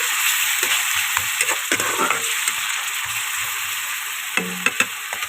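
Chopped onion and ginger frying in hot oil, a close, steady sizzle with scattered crackles and a few sharp pops near the end, with no talking.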